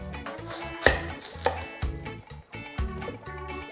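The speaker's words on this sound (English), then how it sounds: "And then we're gonna cut it down the middle." Kitchen knife cutting a watermelon down the middle on a board, with several dull thuds and crunchy chops spaced irregularly under faint background music.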